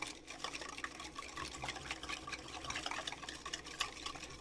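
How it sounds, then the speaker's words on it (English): Salad oil poured slowly into a somen noodle salad dressing to emulsify it, a soft steady trickling liquid stream, close and faint, heard alone. "with some salad oil. You wanna pour it in slightly slow."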